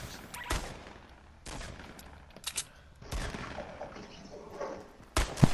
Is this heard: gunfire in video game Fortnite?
yes